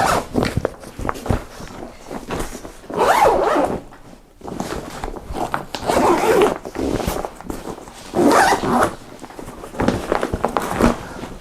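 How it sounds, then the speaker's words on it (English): Aqua guard main zippers on a Goruck x Carryology Kaidan GR2 backpack are pulled open and closed in several close, raspy strokes separated by short pauses. "The 2 main zippers are beautiful."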